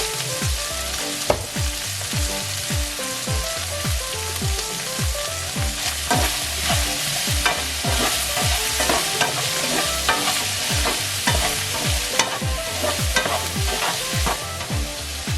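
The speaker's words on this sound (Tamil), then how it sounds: "இந்த வெங்காயம் பொரிகிறதுக்கு ஏற்ப கொஞ்சம் உப்பு தூவுறேன்" Onions frying in a pan for a Tamil mutton curry, with a continuous hiss of sizzling oil punctuated by frequent rhythmic scrapes and clinks of a spatula stirring, close and steady throughout with no voices.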